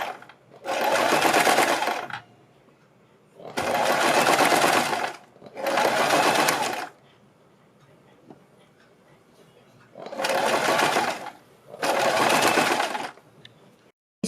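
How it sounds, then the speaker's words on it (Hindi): Sewing machine stitching a kurti neckline facing along marked lines, running in five loud bursts of one to two seconds each, separated by short pauses, close up with no talking. "बिल्कुल इन्हीं निशानों के ऊपर हमें सिलाई लगा लेनी है"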